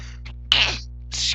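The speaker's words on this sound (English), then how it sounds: "Sorry, I sneezed there." A single person sneezes close to the microphone: a sharp, breathy burst, then a second hissing burst a moment later, with no talking.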